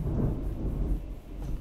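Low rolling thunder from a storm, a steady deep rumble that holds for under two seconds at fairly even loudness, with no voices.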